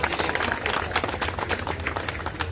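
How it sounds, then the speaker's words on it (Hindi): A crowd at an Independence Day celebration in an LIC office in India applauds with dense, continuous clapping throughout, loud and close. "वेरी गुड, जोरदार ताली।"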